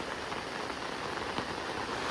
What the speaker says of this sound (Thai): เย่ฝนตก